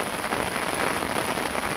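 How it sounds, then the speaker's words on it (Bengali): Rain falls steadily during river fishing, a continuous close hiss of drops with no pauses or voices. "এই যে এখন বৃষ্টি হতেছে"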